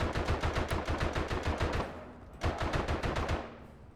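Rapid automatic machine gun fire from the Verdun game, a steady burst of evenly spaced loud shots that stops briefly near the two-second mark and then resumes.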